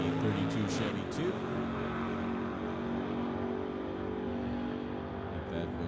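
At an old-time drag racing event, a 1953 GMC and a 1963 Chevy II rumble with a steady, fairly distant engine drone that holds an even pitch throughout, with a few sharp clicks at the start.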